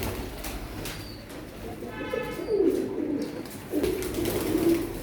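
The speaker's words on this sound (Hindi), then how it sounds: "ये अली वाला कबूतर," Ali's pigeon gives a couple of distinct rolling coos up close, rising clearly over a softer bed of cooing from other pigeons, with a faint chirp early on.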